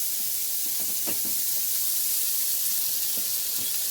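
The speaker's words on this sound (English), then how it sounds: "I'm just putting a little bit of the onions. Let that sweat out first." Onions and peppers sweating in a hot pan give a steady, soft frying sizzle and hiss throughout, with a few light clicks from stirring or shifting the pan.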